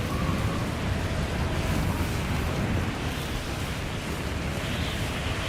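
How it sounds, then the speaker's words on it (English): Wind roars steadily in the icy, freezing mountains of the video game Death Stranding 2, a loud, continuous, full-bodied rush with no talking. "It's a bit windy, isn't it?"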